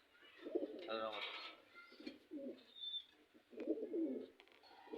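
Domestic pigeons coo in soft, throaty bursts, several low rolling calls with brief pauses between them, close by, with faint chirps in the background.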